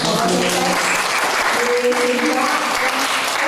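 An audience at an alumni info session for Nicholas Cedric of Feng Chia University applauds, a steady, dense wash of clapping that holds at full loudness from start to finish.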